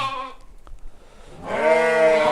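Hissar sheep brought from Tajikistan bleating at a livestock market, with a short close bleat at the start and then a longer, louder wavering bleat after a brief pause.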